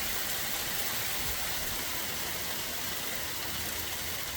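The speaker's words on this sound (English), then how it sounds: "Hail." Hail falls outside a garage as a dense, steady hiss and patter, continuous and fairly loud, with no breaks or voices over it.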